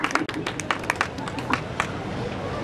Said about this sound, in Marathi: मला वाटतं टाळ्यांचा कडकडाट अजून थोडा म्हणजे निदान हातातल्या बांगड्या टाळ्यांनी कणकिणतील अशा तरी टाळ्या हव्यात.